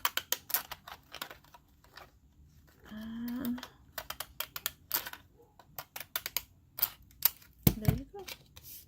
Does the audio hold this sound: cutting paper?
yes